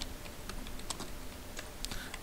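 Keystrokes on a computer keyboard while entering router configuration commands in Packet Tracer, a steady scatter of soft, quick clicks with uneven spacing over faint background hiss.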